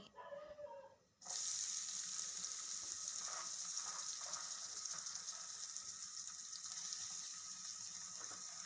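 Chopped onions with cumin seeds hit hot oil in a pan while cooking a chicken curry, bursting into a loud, steady, close sizzle after a brief quieter moment and crackling on without talk.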